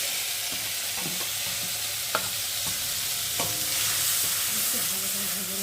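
Onion paste and tomato paste fry in hot oil, giving a dense close sizzle broken by repeated spatula scrapes and taps as the mixture is stirred; no speech.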